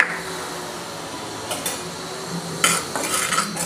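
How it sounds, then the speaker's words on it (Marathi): Amaranth (rajgira) seeds roasting dry in a hot kadhai, stirred with a metal spatula that scrapes and clinks against the pan in a few short bursts over a faint background hiss, close up with no talking. "यामध्ये मी पहिले सुरुवातीला राजगिरा थोडा थोडा करून भाजून घेणार आहे"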